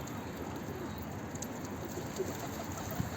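Bango pigeons coo softly in a coop, low murmuring calls faint against a steady background hiss, without any talk.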